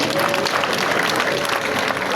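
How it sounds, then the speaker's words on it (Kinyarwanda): A crowd at a Rwandan wedding-party event gives a burst of loud, dense applause that runs steadily through the moment, with faint voices mixed in. "Bamuha amashyi menshi cyane."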